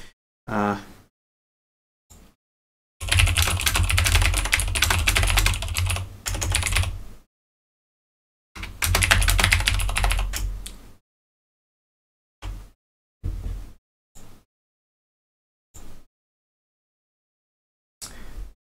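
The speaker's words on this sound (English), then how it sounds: "you're going to hear a lot of typing" Bursts of fast clattering keystrokes on a computer keyboard, close up, separated by silent gaps and a few short isolated taps.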